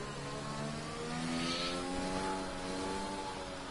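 A Formula 1 car engine in a racing video game at the Hungary circuit, droning steadily as the car rolls into the pits, with an even, sustained mid-pitched tone held close throughout.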